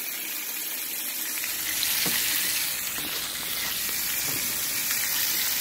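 Steady crackling sizzle of chicken frying in hot oil, continuous and close, with a few soft pops and clinks rising above the hiss.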